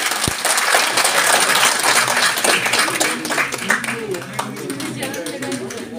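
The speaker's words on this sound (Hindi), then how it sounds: "आप लोगों से गुजारिश है कि थोड़ा तालियों से भरपूर असर करें।" Audience applause at a university fresher party for M.A. students in Jammu, a burst of many hands clapping that is strong at first then thins into scattered claps, with voices talking over it.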